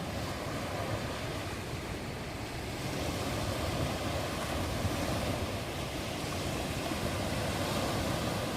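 A strong flowing water current rushing steadily near a boat, a dense, continuous roar with some wind buffeting the microphone, unbroken throughout with no voices.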